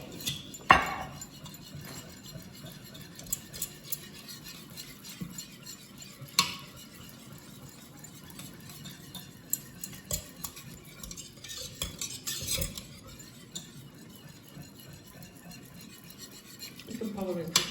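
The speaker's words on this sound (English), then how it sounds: "Give it a slosh round in the hope that it comes out of the whisk" Milk being whisked by hand in a pan for a cheese sauce, a steady stirring and scraping of the whisk against metal with occasional clinks, close and fairly quiet throughout, no talk.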